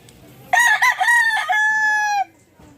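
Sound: rooster crowing

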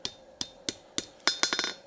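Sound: hammer blows forging a steel skillet

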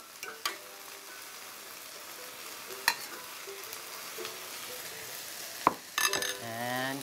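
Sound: onions being stirred while caramelizing in a pan

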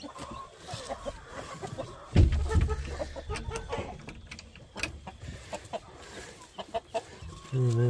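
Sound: chickens clucking in a coop

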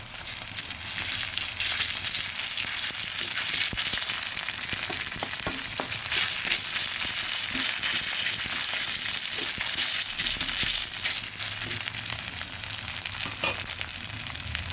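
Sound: onion and ginger paste frying

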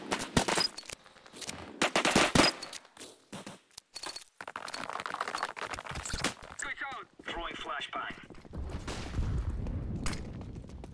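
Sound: gunfire from the video game CS:GO

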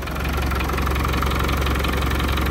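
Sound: Land Rover Defender 300Tdi engine idling

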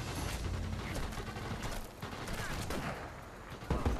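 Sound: enemy gunfire in video game Sniper Elite VR

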